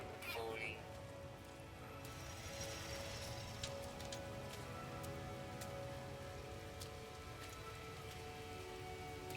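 Faint rain falls steadily in the No Man's Sky survival game, a soft patter with scattered drop clicks over a low background hum and tonal game ambience.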